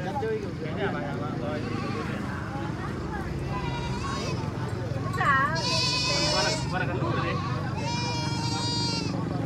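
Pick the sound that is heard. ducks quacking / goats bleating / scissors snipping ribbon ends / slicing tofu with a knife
goats bleating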